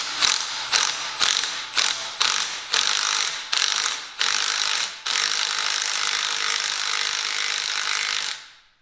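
A ratchet wrench tightens a nut on the stator of a 1971 John Deere 140 garden tractor: short bursts of close clicking, then a longer sustained ratcheting run, with no voices.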